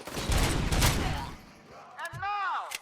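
Dense burst of rapid gunfire in the Robocop video game, loud and continuous for about a second and a half, then a gap before shouting and electronic whooshes.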